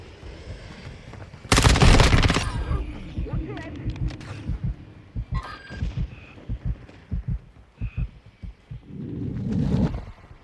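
Gunfire in a Call of Duty Modern Warfare II hardpoint match with an ISO 9mm, a loud sharp burst followed by a string of separate shots and thuds in quick, uneven rhythm, with radio chatter and a voice calling out over it.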